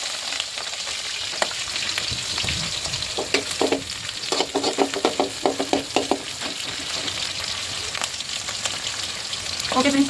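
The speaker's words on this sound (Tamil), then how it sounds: "எண்ணெய் காஞ்சிச்சு. நெக்ஸ்ட்டு கடுகு போட்டாச்சு." Mustard seeds crackle and pop in hot oil in a pan, a busy run of sharp sizzling bursts with a steady frying hiss underneath, close and fairly loud, with no talking.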